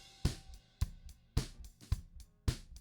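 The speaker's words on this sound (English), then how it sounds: "So this is a clean drum sound." Clean, uncompressed drum kit from a drum bus: sharp kick and snare hits landing about every half second in a steady groove, each with a natural decay and cymbal wash between, loud and close with no voices.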